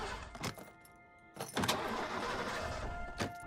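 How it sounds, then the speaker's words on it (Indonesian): A car engine in a Seoul taxi cranks in several short bursts without catching, with steady background noise between attempts. "tiba-tiba saja mobil itu tidak bisa di-starter"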